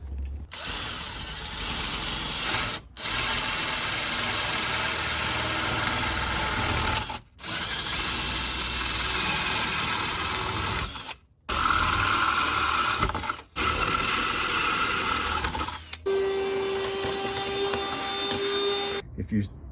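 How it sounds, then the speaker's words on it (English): Power drill boring holes with a 1-inch bit into a door for a mortise lock using a mortising jig, a loud sustained whir in several long bursts separated by short stops, with a voice talking at times. "Now, for drilling these, I'm going to use the 1-inch bit, because you see that gives me plenty of room"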